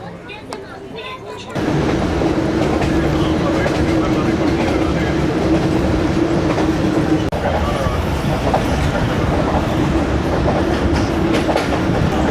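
The Jand shuttle train runs on mountain tracks near Sher Shah, giving a loud, steady onboard rumble with rhythmic wheel clatter throughout, and a voice talks over it.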